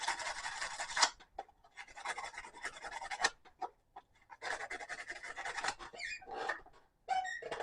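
Knife scale pins being sanded with 80 grit sandpaper for a custom harpoon clip knife, heard as bursts of dry, scratchy rasping in short strokes separated by brief pauses, close and fairly loud, with no talking.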